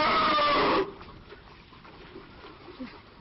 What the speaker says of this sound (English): That is the sound of a youngster that's being weaned that is not happy about its mother denying it some milk.